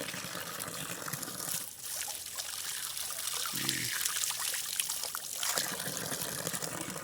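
Overflowing water trickles and splashes steadily outdoors, a constant wash with faint voices in the background.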